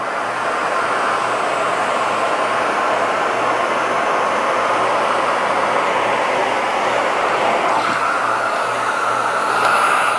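A Miele Guard L1 AllFloor vacuum cleaner runs with a loud, steady broadband whoosh and motor drone, close and continuous, shifting slightly near the end as the suction changes.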